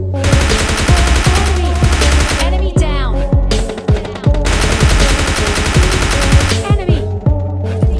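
Rapid gunfire from a battle royale video game rings out in loud, repeated bursts of sharp shots that nearly fill the clip, with brief gaps and faint talk underneath.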